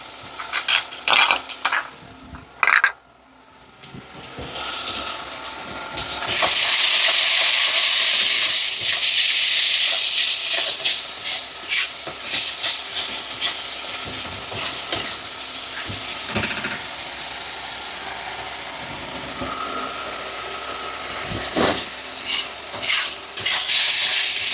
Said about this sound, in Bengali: মশলাটাকে খুব ভালো করে কষিয়ে নিয়েছি